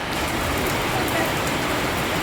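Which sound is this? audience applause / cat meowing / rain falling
rain falling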